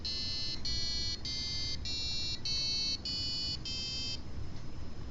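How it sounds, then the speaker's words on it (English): A passive buzzer on a Raspberry Pi Pico sounds seven evenly spaced, bright, tonal beeps, each rich in overtones, then stops, leaving faint background hum. "Passive buzzer."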